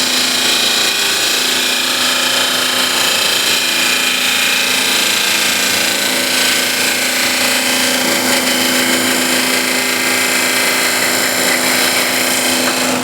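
Wood cut on a lathe with a turning tool riding the bevel, a steady, loud, continuous whirring hum with broadband shaving hiss throughout, no breaks.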